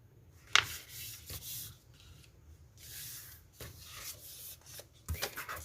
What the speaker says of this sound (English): And then what you do is you fold it in half.